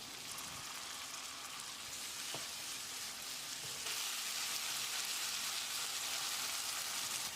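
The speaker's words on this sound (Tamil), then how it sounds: "இதில் 2 டீஸ்பூன் கல்லுப்பையும் சேர்த்து தக்காளியை மசிகிற அளவுக்கு வதக்கிடலாம்." Finely chopped tomatoes sizzle in a hot pan for a Kerala tuna fish curry, a steady bright crackle that grows louder midway, with a faint stir or two and no talk.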